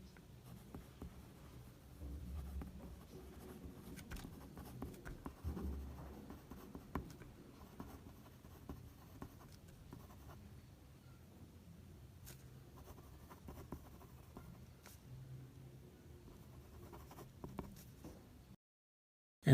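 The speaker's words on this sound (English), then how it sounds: "Let's write it down." A pen scratches steadily on paper while working a maths exam problem by hand. The soft, continuous scribbling is close and faint and runs on for almost twenty seconds.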